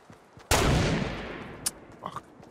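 A minigun unleashes a loud, sustained burst of gunfire in the Fortnite battle royale, a dense roar that begins abruptly and tapers over about a second and a half, followed by a few fainter scattered shots.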